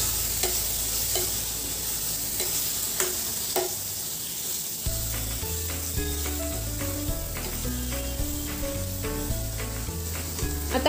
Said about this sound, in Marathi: हे मसाले देखील आपण छान परतून घेणार आहोत.